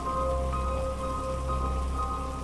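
Steady rain pours down over a surface, an even wash of drops with a faint low rumble underneath, continuous and alone with no voices.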